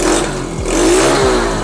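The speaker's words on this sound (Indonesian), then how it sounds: "Coba geber, recap." A restored 2002 Honda Win 100 motorcycle engine revs steadily and loudly up close, its droning pitch rising and falling through a couple of throttle blips.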